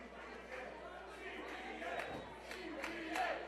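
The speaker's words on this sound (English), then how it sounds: "our crowd coming alive for CPA" A crowd at an indie wrestling show cheers and comes alive for the wrestler, a steady roar of voices with scattered shouts across the whole span, fairly loud and continuous.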